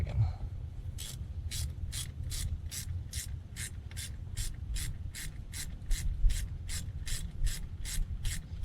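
A ratchet wrench turns a 7/16 bolt on a 1975 Chevrolet El Camino, giving a steady run of about fifteen evenly spaced, close clicking pulls over a low background rumble, with no talk.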